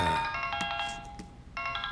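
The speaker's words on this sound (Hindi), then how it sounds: "किसका फोन है?" A mobile phone ringtone plays a melodic, repeating electronic tune, loud and close, pausing briefly near the end before starting again, with no voices over it.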